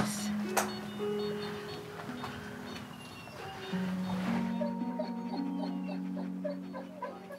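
A dog panting softly with a few high whimpers close by, mixed with tonal background music and faint ticking.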